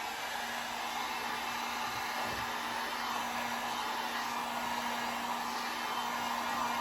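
A hair dryer blows steadily to dry paint on a handmade wooden sign, a loud, continuous whooshing hum that holds unchanged from start to finish, close up, with no voices.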